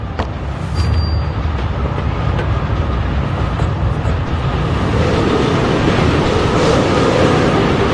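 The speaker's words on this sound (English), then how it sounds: "There must be a way to stop the train." A moving train in the game Forgotton Anne rumbles steadily and loudly, with a dense low roar and clattering texture that builds slightly over the stretch, with no voices.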